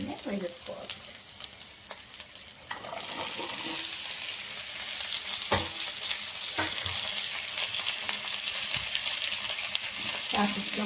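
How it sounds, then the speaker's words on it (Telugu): Cut capsicum sizzles and fries in a pan on a home stove, a steady bright hiss throughout with occasional stirring clatters and scrapes, close by and fairly loud. "ఇప్పుడు మనం కట్ చేసి పెట్టుకున్న క్యాప్సికమ్ని వేసుకోవాలి."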